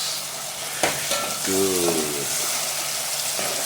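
Tomatoes frying in a pan while being crushed into a thick paste for an omena small-fish dish, a close steady sizzle broken by a few scraping and stirring knocks.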